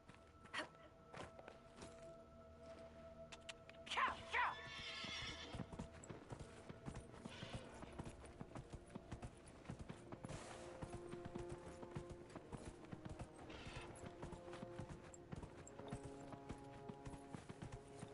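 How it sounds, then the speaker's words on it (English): Hooves clip-clop steadily under a busy Dragon Age: Inquisition game soundscape, with a short horse whinny partway through, fairly close and loud. "Try to call a horse."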